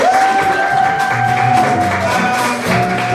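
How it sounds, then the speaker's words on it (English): Church congregation cheering and clapping for fathers at a Father's Day service, a broad crowd applause over a held organ or keyboard tone, with some voices mixed in. "Come on, let's cheer up our fathers."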